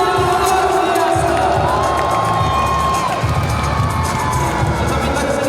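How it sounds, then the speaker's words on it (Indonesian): Large crowd at a school arts and scout event opening ceremony in Aceh Besar cheering and shouting loudly, children's voices whooping over a steady roar, with a rhythmic low thumping underneath throughout. "Beri tepuk tangan yang luar biasa."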